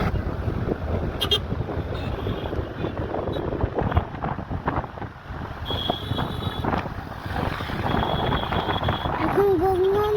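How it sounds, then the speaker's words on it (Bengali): A boat crossing the Ganga river, with a steady engine rumble mixed with wind buffeting the microphone and a few brief clanks, loud and continuous throughout. "এখন গঙ্গা নদী পার করছি।"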